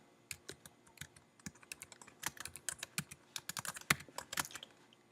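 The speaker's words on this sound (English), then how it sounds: "we're going to type Works Cited, space once, go back to left alignment, and then you start typing your" Typing on a computer keyboard: rapid, irregular close key clicks, sparse at first, then denser bursts of quick strokes, with no talking.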